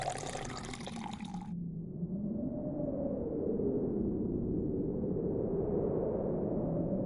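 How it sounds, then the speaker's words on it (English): Water pours from a large bottle over a rag, a steady gurgling stream that shifts slightly in pitch as it flows, quiet and continuous after a brief burst of broadband noise at the start. "He pours the water over his mouth."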